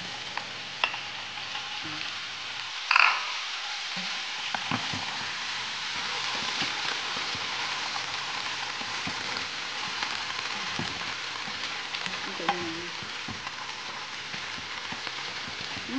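Shrimp hit a hot pan seasoned with fish sauce and sizzle in a steady broadband hiss, with a brief clatter near the start and occasional small pops, loud and continuous with no talking.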